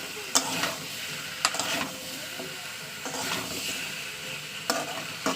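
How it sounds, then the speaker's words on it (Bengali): Tomato and spices stir-fried over a strong gas flame, a continuous sizzle broken by several scraping strokes of a spatula against the pan at uneven intervals, with no talking. "টমেটোর সঙ্গে আবার মশলাগুলোকে ভালো করে একটু মাখিয়ে নেবো"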